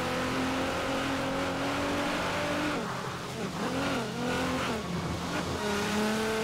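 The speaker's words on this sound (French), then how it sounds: "moins que le son des voitures couvre un peu ce grésillement" Racing cars roar through Forza Horizon 4, engines revving up and down with gear-shift dips and sliding pitch sweeps around a drift zone, a loud continuous game soundtrack with no speech.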